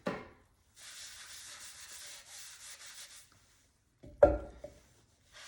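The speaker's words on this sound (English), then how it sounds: "When they're drier, it's really easy to scrape them." Dry square clay pottery bats get their edges scraped, a soft, close rasping stroke lasting a couple of seconds, then a sharp knock and a short scrape near the end.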